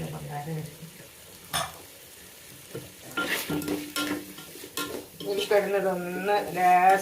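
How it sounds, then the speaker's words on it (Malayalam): Potatoes frying in coconut oil in a home kitchen pan, with steady sizzling broken by stirring and scraping of a utensil against the pan, close and moderately loud, with brief voice-like tones near the end. "ഉരുളക്കിഴങ്ങ് ഒന്ന് ചെറുങ്ങനെ ഒന്ന് പൊരിഞ്ഞാൽ മതി ഒന്ന് ഇതിൽ കിടന്ന് വേവട്ടെ"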